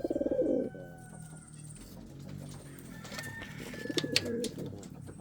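Indian Fantail pigeons coo, opening with a loud, close burst of throaty calls and then continuing in softer, rolling coos against faint background noise.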